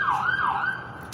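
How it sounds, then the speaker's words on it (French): A police car or ambulance siren wails in rising and falling sweeps, moderately loud and somewhat distant, heard from a park promenade with no talking. "Bon, ça, c'est la police, je suis sûr, ou l'ambulance."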